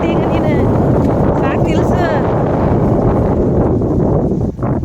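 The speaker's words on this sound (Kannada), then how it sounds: "ಗಾಳಿ ಸೌಂಡ್ ಕ್ಲಾರಿಟಿಯಾಗಿ ಸಖತ್ತಾಗಿ ಬರ್ತಾ ಇದೆ" Strong wind gusts over paddy fields roar steadily into the microphone throughout, loud and close, with a voice faintly audible beneath the rushing noise.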